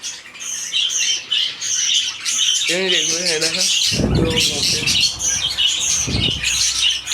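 Dense high-pitched bird chirps and squawks chatter throughout, with a person speaking briefly in the middle and a couple of low thumps near the end.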